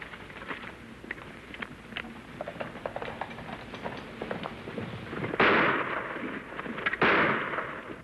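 Two loud, sharp gunshot blasts ring out in a western TV show, set by a wagon, each with a ringing decay, over an earlier stretch of rumbling, clattering background movement.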